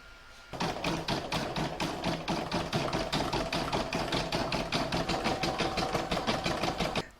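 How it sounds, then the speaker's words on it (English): An embroidery machine stitches a satin stitch border on an in-the-hoop scrappy heart design, starting up after a short pause into a fast, steady run of close, even needle strokes that continue to the end. "pop this back in my machine and stitch round number 13, which is the satin stitch that will do all the border"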